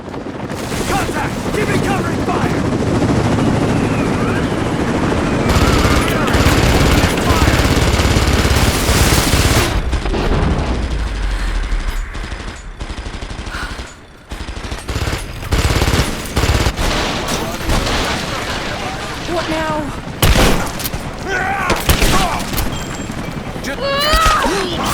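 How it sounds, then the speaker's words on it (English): A firefight in Rise of the Tomb Raider: loud bursts of automatic gunfire and booming blasts, dense at first, then thinning into scattered shots, with shouted voices over the chaos. "Contact! Give me covering fire!"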